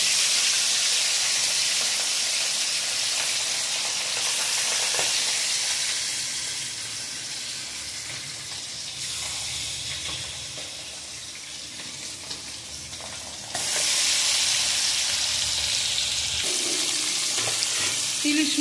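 Hilsa fish pieces frying in hot oil seasoned with black cumin seed, a steady loud hiss and sizzle that swells and eases over time, with occasional clinks.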